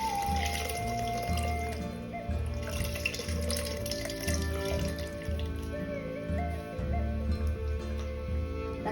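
Tamarind water poured into fish head curry as a steady liquid stream, with a continuous splashing pour running the whole time over a low background hum.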